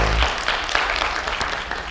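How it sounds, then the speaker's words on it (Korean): Audience applause greets the reveal of a novelist and children's author's baby photo at a lecture, a dense, steady wash of clapping that holds through the whole short stretch with a low rumble underneath. "뜨거운 박수로 맞아주세요"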